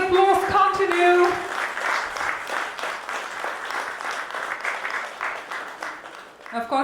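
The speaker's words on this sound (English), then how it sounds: "Ladies and gentlemen, let the applause continue." An audience applauds steadily at a procurement leaders' summit panel session, a dense sustained clatter of many hands in a hall, starting under a brief burst of speech and fading slightly at the end.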